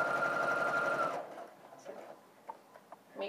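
A sewing machine runs a stitch along the cut edge of a fabric project in a fast, steady whir for about a second, then stops. Faint handling clicks and light taps of thread and fabric follow.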